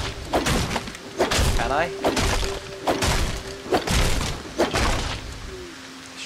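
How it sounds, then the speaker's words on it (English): Staircase blocks being destroyed in a LEGO-style Minecraft video game, heard as a run of repeated dull thuds and knocks at a steady pace, with a person talking over them. "Let's just destroy this staircase."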